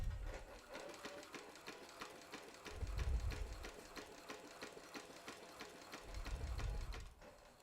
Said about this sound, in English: make it have a upstroke with the needle, which means the lock stitch has started